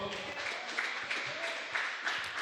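A church congregation claps during a sermon, a soft, steady patter of hands with rhythmic swells, heard faintly alongside voices.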